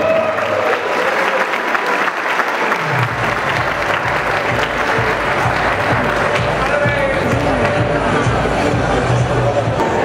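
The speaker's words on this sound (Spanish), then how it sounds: "fuerte aplauso también para ella." Steady, loud crowd applause for a contestant at the Señorita Feria de las Constituciones pageant in Zitácuaro, 2012, rolling on without a break, with chatter and a voice over a busy hall.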